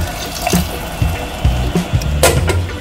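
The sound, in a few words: adding water to a cooking pot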